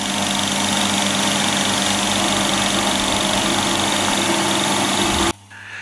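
A newly bought air compressor runs steadily and loudly on its own, a constant droning motor hum with a rapid pulsing beat as it builds pressure, then abruptly cuts out near the end.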